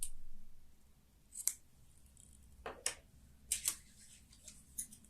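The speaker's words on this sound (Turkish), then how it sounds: "Fazla olan ipimi kesiyorum." Sharp metallic snips of scissors trimming excess yarn while crocheting a summer cardigan, a handful of quick separate clicks spaced over a few seconds against quiet.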